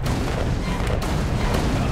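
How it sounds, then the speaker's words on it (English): Ship cannons and depth charges firing during the ship section of the video game Alice: Madness Returns, a loud, dense continuous rumble of booms and blasts that fills the whole stretch. "So I fire cannons and fire depth charges."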